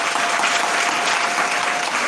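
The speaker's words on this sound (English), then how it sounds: "let's give them a round of applause." Dense, steady applause from a conference audience, loud and close, many hands clapping continuously without pause.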